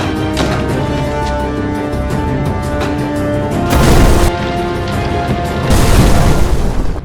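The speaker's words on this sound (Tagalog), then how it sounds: "Sumabog yung kubo ni boss." Loud booming explosions of a hut blowing up burst out over a dense rumbling backdrop, with a big blast midway and another heavy one near the end.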